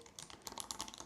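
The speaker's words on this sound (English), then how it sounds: "I could actually just type his name, Steven's birthday, January 9th" Fingers type on a computer keyboard in a quick run of light, close keystrokes with short uneven gaps, quiet and with no talking.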